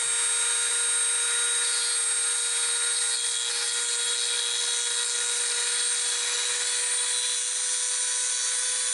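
A Dremel rotary tool spins with a bit fitted, a steady high-pitched whine with a constant tone that holds unbroken and fairly loud for the full stretch, with no voices.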